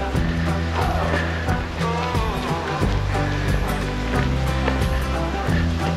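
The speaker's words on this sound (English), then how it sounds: "Oh my gosh, that running water" Running water rushes steadily near Laurel Falls trail, a continuous broad wash heard close and loud with no breaks.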